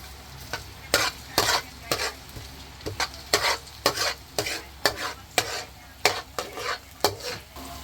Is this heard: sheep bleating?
no